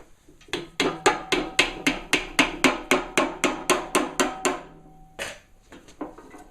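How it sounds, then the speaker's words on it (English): Welding rod held in a vise is hammered over into a 1.25-inch, 90-degree leg, about fifteen sharp metallic blows in a quick, even rhythm, close and loud, followed by a couple of softer taps. "Put them in a vise and bend them over."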